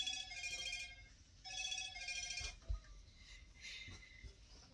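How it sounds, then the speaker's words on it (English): A phone rings with a repeating electronic tone in regular bursts, soft and indoors, with a faint thump partway through. "I think your phone's ringing."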